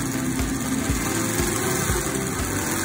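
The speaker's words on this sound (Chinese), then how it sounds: "推油门感受发动机轰鸣" An eight-cylinder model engine runs steadily as the throttle is pushed, giving a dense, continuous mechanical drone with a rapid pulsing rumble. The sound is moderately loud and close, with no voices.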